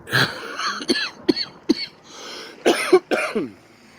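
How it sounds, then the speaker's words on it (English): Several harsh, raspy coughs and throat-clearing bursts come in uneven clusters, close to the listener, with brief pauses between them. "I got a stinking cough going on."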